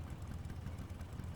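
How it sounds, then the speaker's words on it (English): Vehicle engine idling in the Metal Gear Solid Delta: Snake Eater video game, a steady low rumble holding evenly throughout at a fairly quiet level with no voices over it. "Sorry I'm late. Cut the engine."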